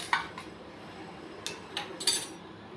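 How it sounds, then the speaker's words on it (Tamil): Urad dal dry-roasting without oil in a pan over a low flame. A utensil scrapes and clinks against the pan a handful of times over a faint, quiet background. "உளுந்தம்பருப்பு போட்டுக்கிடுவோம். எண்ணெய் ஊற்ற வேணாம், கொஞ்சம் லோ ஃப்ளேம்லேயே வச்சு கொஞ்சம் பொரிஞ்சோன்னே எடுத்து போட்டுக்கோங்க"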